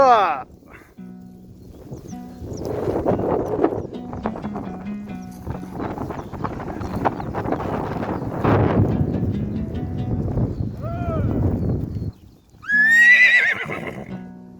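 A herd of horses being moved along a route on the Kazakh steppe, with neighs and whinnies rising near the start and loudly near the end over steady wind and hoof clatter, and people talking through most of it.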